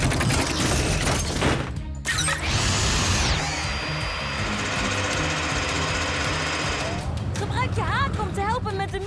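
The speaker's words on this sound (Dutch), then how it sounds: "En Zuma, jij pakt de megaboor om gaten te boren." A loud mechanical drilling and grinding roar from a giant drill boring holes in the animated show PAW Patrol runs throughout, with a high whine and crashing debris, layered over music and sound effects.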